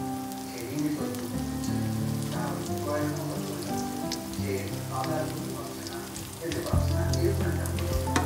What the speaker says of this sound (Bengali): আমি মুরগিগুলো দিয়ে নিয়েছি। এটাকে আমি এখানেই ভেজে নিচ্ছি